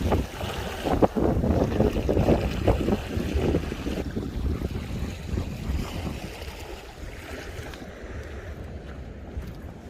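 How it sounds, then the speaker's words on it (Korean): A light wind blows outdoors on a shore near Wando during walking flatfish fishing, a steady breezy rush with gusty buffeting on the microphone. "날씨는 좋은데 아 바람이 살짝 있네요"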